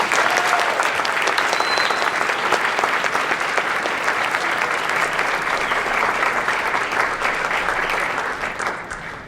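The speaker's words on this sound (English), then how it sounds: "Please join me again and give them a round of applause." A crowd applauds students at an annual early college high school symposium, loud, dense clapping sustained for several seconds before tapering off slightly at the end.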